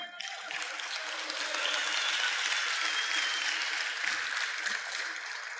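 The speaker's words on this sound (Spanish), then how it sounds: "Le damos un aplauso al Señor." A church congregation applauds during a sermon, giving praise: a fairly faint, even wash of many hands clapping that fades in quickly and continues steadily for several seconds with no voices over it.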